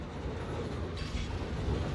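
A train in the factory-building video game Satisfactory rolls past as a continuous heavy rumble with faint rail clatter, loud and close throughout, without speech.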